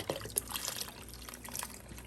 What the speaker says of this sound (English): I have unsalted beef stock, if you can read upside down. This is like 4 cups.